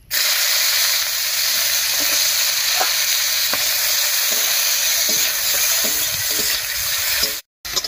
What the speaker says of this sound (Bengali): মাছ ভাজার এই তেলের মধ্যে দেবো পেঁয়াজ কুচি।